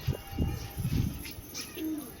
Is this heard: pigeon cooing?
yes